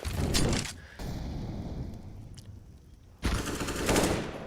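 Automatic rifle sprays in a CS:GO match, with two loud sustained bursts of rapid gunfire separated by a quieter stretch, close and dense.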